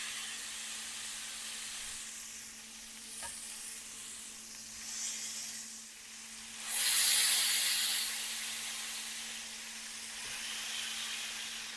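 Smash burger patties, pressed thin, fry slowly in a skillet with a steady sizzle and hiss throughout, rising to a brief louder spitting burst partway through before settling back to an even crackle.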